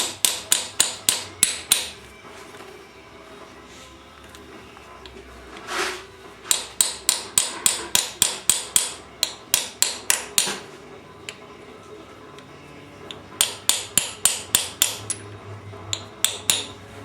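Metal hammer blows drive a crankshaft front seal into a Subaru EA82 engine using a throw-out bearing as a driver, in quick bursts of sharp, ringing taps separated by short pauses, close and loud.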